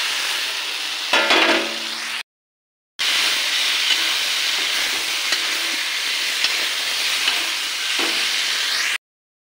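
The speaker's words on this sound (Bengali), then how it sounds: "টমেটো আর এগুলো ভাজি করাটা এবার এতে ছেড়ে দেব।" Tomatoes and vegetables sizzle and spit in a hot pan while being stirred, a loud steady hiss that cuts out briefly before resuming, close up with no talk.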